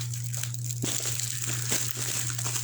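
Packing tape and wrapping crinkle and tear as two taped packages holding mini wrestling title belts are opened, with close, scratchy crumpling bursts and one sharper rip over a steady low hum.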